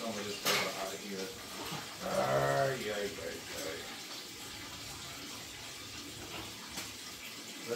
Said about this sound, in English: let's try to get some of this water out of here